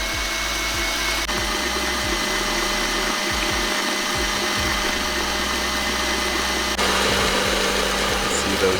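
An electric mixer running on high whips cream to soft peaks for a key lime pie, giving a steady close motor whine with bumps and scrapes from the beaters, and the pitch shifting partway through.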